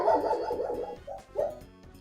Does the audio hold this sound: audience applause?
no